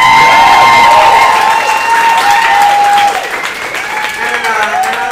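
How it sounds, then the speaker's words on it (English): Loud applause and cheering from a live audience at a comedy reading of fan fiction, steady clapping with whoops and shouts on top, easing slightly toward the end. "applause for Sarah."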